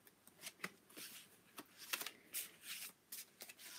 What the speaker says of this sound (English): I'm just giving the cards a mix before we get started